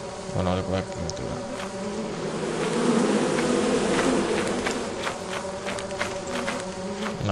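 A dense, steady buzzing of bees in the video game Lethal Company swells louder midway and holds close and continuous throughout, with no speech over it.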